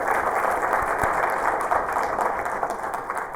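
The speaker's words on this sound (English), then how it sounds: "Let's have a big round of applause for our panelists for a great discussion." A room applauds panelists after a climate change and human rights discussion, a continuous, even roar of clapping that stays strong and fairly close with no break.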